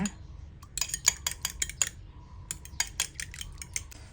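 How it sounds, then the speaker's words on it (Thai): Two eggs beaten in a bowl for egg soup, the utensil giving quick, light, irregular clinks and taps against the bowl, fairly faint and close, with no talking over it. "ตีไข่เหมือนทำไข่เจียวเลยนะคะ"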